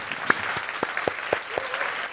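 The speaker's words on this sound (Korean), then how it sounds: "이 모든 것을 허락하신 주님께 박수 한번 드리십시다" Congregation in a church clapping for about two seconds after a sermon, with uneven claps and a few sharper, louder hand strikes standing out from the crowd.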